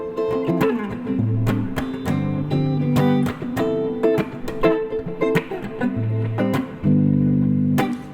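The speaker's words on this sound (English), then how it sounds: "the chord progression and strumming pattern that he's talking about sounds kind of like this" A guitar plays a chord progression with a steady strumming pattern, bright, slightly distorted chords struck in a regular rhythm, loud and close with no voices.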